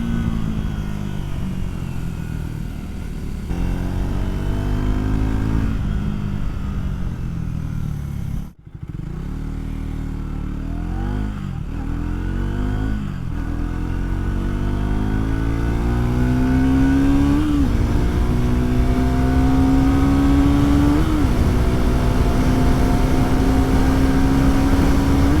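A Triumph Tracker 400 motorcycle engine runs close and loud, idling with a brief cutout and then revving up repeatedly in rising sweeps, no speech.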